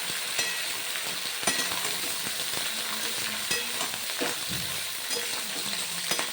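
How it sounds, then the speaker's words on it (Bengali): Eggplant and potato pieces fry in oil for a vegetarian curry, sizzling steadily while a utensil stirs them, with repeated scraping clicks against the pan and no voices. "নাড়াচাড়া করে বেগুনও হালকা ভাজা ভাজা করব"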